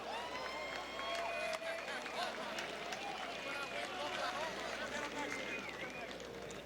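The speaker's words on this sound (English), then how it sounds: "Let's hear a round of applause for the" Ballpark crowd at an evening Omaha Storm Chasers baseball game applauding and cheering in a steady, dense wash of claps and voices, with a public-address announcer talking over it.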